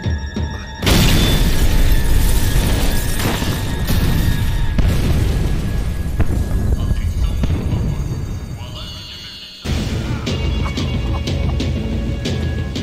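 In the video game Max Payne 3, a loud explosion blast hits with a sharp boom, followed by a long roaring rumble and ringing debris that fade before a second abrupt burst of noise.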